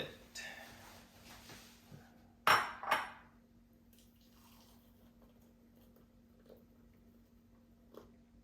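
Dishes and cutlery clink briefly while pumpkin soup is plated, with one sharp cluster of clatters followed by a couple of faint knocks in a quiet kitchen with a low hum.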